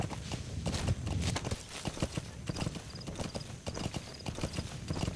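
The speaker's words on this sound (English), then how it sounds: "I could ride there with the horse" Horse hooves clip-clop in a steady riding rhythm in Metal Gear Solid V, close and moderately loud, with occasional small beeps in the background.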